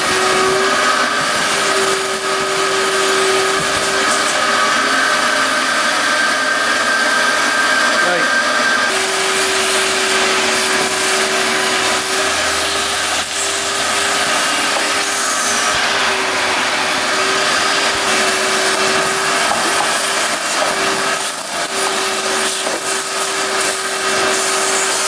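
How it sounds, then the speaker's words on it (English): Shop vacuum running continuously while cleaning out a 1975 Honda 1000cc motorcycle that sat untouched for over 25 years, a loud steady whine whose pitch shifts as the nozzle moves, with brief talking underneath. "let's get this thing vacuumed out."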